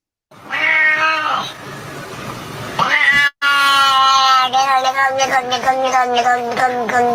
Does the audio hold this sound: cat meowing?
yes